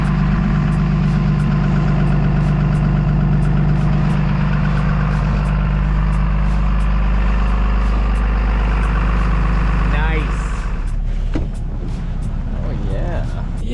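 A RAM 3500 Limited truck with a high-output 6.7L Cummins diesel idles roughly after a cold start in freezing weather, loud, deep and steady, then its rumble drops as it settles, with a person talking over it.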